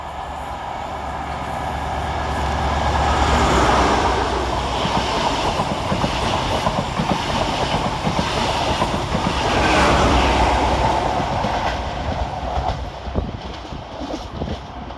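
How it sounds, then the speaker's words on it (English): Class 43 locomotives 43176 and 43175 haul an Inverness to Edinburgh Waverley service out of a tunnel at North Queensferry station. A loud, steady rumble swells and eases, with a rhythmic clickety-clack and faint wheel squeal and no voices. "Coming out of the tunnel is 43176 and 43175, working 1 Bravo 14 from Inverness to Edinburgh Waverley."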